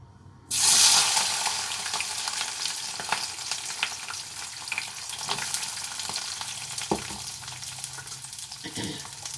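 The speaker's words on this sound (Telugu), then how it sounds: "ఆయిల్ వేడైంది. మనం దొండకాయ ఫ్రై చేసుకుందాం." Ivy gourd (dondakaya) hitting hot oil in a pan erupts in a loud, close sizzle that gradually settles into a steady crackling fry, with a few sharp clinks and pops scattered throughout.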